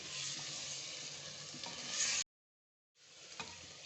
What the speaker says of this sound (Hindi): जब तक कि ये घी जो है ना ये सेपरेट ना हो जाए, तब तक हम इसको भूनेंगे